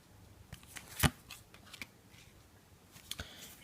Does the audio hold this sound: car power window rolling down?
no